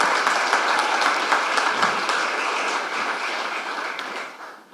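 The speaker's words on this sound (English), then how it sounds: "So let's just another round of applause for Sue, Kim, and Leo" Steady, dense applause from an audience at the official launch of a school readiness program, filling the room for several seconds and tapering slightly at the end.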